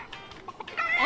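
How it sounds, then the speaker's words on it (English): A chicken in the Fortnite Battle Royale video game clucks in a few short, close bursts, getting louder toward the end, with no talking over it. "Oh, there's a chicken."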